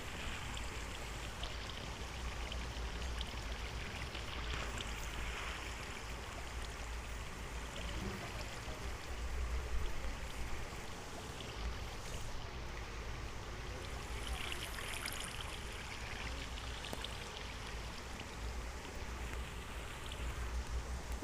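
Steady rushing flow of water in a Minecraft cave, a continuous even wash of noise heard alone at low level.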